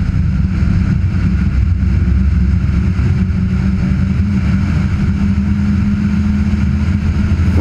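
A rally car charges up a twisting hill climb road over blind crests, its engine roaring loud and steady throughout with a continuous low, dense drone and no let-up.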